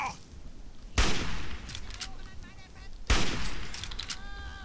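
Assault rifle fire in the video game Fallout 3: two loud, close bursts of gunfire about two seconds apart, amid ongoing game ambience.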